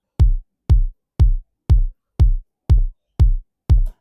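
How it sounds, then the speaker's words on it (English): Eight evenly spaced punchy kick drum hits play a simple four-on-the-floor pattern in an Afro house beat, each with a sharp click attack and quick deep decay, loud and isolated. "So that's the kick"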